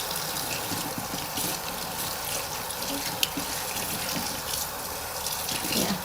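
Running tap water splashes steadily into a sink as hands are washed, a close, continuous wash of water with no talking.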